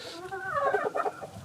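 A gamefowl stag, a young rooster, gives a short run of soft, close clucks and throaty murmurs lasting about a second, clear and alone with no talk.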